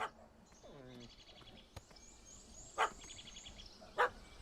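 A dog barking inside The Witcher 3 video game, a few sharp separate barks over faint bird chirps and a soft ambient background, with a rising whine early on.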